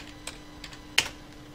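A few scattered keystrokes on a computer keyboard, light clicks with one sharper tap near the end, in a quiet room.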